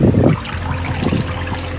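Running water washes gold ore in a steady gurgling trickle up close, with a louder splashing burst at the start and no voices.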